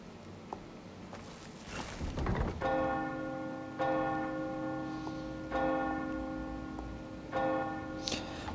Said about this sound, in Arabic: الحين طق الجرس.